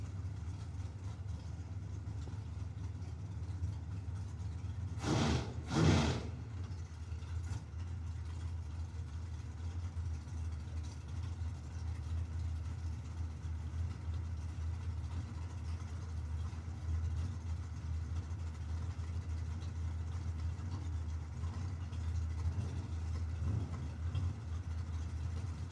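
At a drag strip start line, a '63 split-window Corvette and a Hemi-powered Avenger idle with a steady low engine rumble, and two sharp loud bursts stand out early before the drone resumes.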